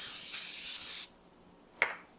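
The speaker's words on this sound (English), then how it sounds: "So just a quick spray." A steady, hissing spray of cooking spray onto a baking pan lasts about a second, then a short sharp click follows after a pause.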